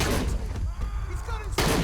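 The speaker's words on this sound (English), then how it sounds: "Watch out, he's firing!" Enemy gunfire in the Shadow of the Tomb Raider game: bursts of shots and impacts crowd the opening and return loud at the end, mixed with game effects and some speech.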